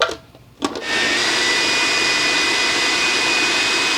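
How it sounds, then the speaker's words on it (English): A food processor whirs loudly as it blends hummus, starting with a brief stutter and then settling into a steady, close, continuous roar. "we've been putting it in the food processor for just a minute now"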